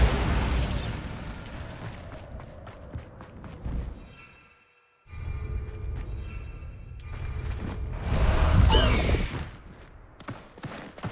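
A Bombarda blast spell in Hogwarts Legacy erupts as a loud, close explosive boom, followed later by a second heavy burst, with game ambience and short silences between.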